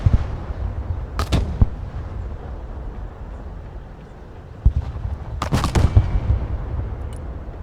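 Mortar artillery fire in the Broken Arrow strategy game, heard as a few sharp distant booms: a pair of shots early, a single thump mid-clip and a cluster of blasts near the end over a rumbling background.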